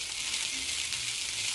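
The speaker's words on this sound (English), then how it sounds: "after the bell peppers have been cooking with the chorizo for about 2 or 3 minutes" Chorizo, bell peppers and par-cooked potatoes sizzle steadily in a hot pan, a dense, even frying hiss that stays close and continuous with no talking.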